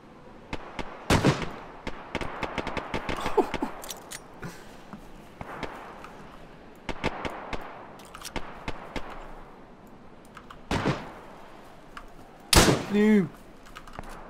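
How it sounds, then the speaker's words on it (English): Gunfire in the video game DayZ during multiplayer gameplay: scattered sharp shots and bursts, some near and loud, others softer, with a heavy echoing blast late on, and players talking in between. "the gun sounds are unreal. They sound so good."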